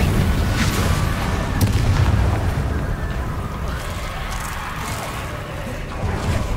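Heavy booming blasts of the Confringo explosion spell in the Hogwarts Legacy game, rumbling continuously with sharp pops over a loud battle din, with no one talking.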